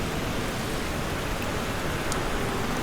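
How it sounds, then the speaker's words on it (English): Steady, dense rain in Microsoft Flight Simulator's Barcelona LEBL airport scenery, a loud continuous hiss of drops with no pauses and no voices. "it's raining in the terminal, so you don't really want to shoot any shots from within the terminal when it's raining outside"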